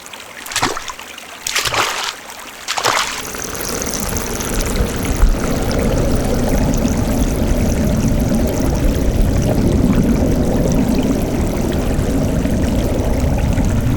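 Water of the Aspen Falls waterfall pours and splashes in a steady, loud, continuous rush, with a few sharper splashing bursts near the start before it settles into an even roar.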